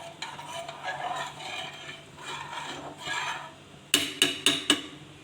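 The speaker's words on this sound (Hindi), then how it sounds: "ये देखिए मैं मुसलसल इसके अंदर चम्मच हिलाती जा रही हूँ ताकि ये ख़राब ना हो" A spoon stirs pizza sauce in a pot over a low flame, making soft swishing scrapes in slow repeated strokes, then four quick sharp clinks against the metal near the end, close and moderately quiet.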